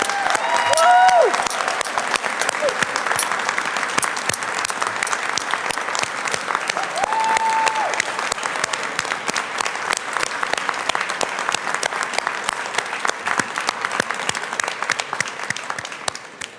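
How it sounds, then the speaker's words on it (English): A crowd at City Hall breaks into steady, sustained applause, with dense clapping continuing throughout, a few brief cheers and whoops rising early on before the clapping carries on evenly to the end. "So please give yourselves a round of applause."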